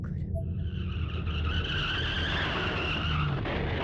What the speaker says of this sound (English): Then there was an oddly familiar sound, another car accident, again, right outside my door.